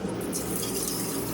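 Water pours steadily from an RV shower faucet, a loud, close, continuous rushing hiss that does not change over its short span.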